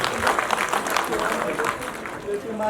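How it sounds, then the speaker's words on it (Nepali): A crowd applauding at a celebration of the Nepali film Prakash's success, a steady patter of clapping with voices mixed in and no clear pauses. "एकचोटि जोरदार ताली प्रकाशको यो सफलताका।"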